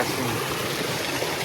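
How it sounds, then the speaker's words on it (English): Water pours steadily from an old culvert that a tree has grown over, giving a continuous rushing trickle with no pauses. "Now it looks like the water's coming out of the tree."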